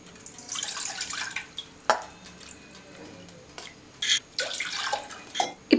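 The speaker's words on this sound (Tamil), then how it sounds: "அதில் 2 கப் தண்ணி ஆட் பண்ணிக்கோங்க" Water pours in uneven splashing bursts into a wide pot while homemade herbal shampoo is being made, with short gurgles and drips between the louder pours, close and clear, no talking.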